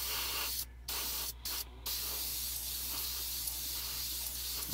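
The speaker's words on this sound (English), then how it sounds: "practice with your airbrush doing tiny amounts of paint" Airbrush spraying small amounts of paint during trigger practice: a steady close hiss broken by three short pauses as the trigger is released, with no talking.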